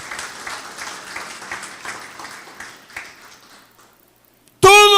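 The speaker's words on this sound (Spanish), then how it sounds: "Dele fuerte el aplauso al Rey de Reyes y Señor de Señores." A church congregation applauds during a sermon, a dense, steady patter of many hands that thins and fades out over about four seconds before a sudden bright tonal sound cuts in.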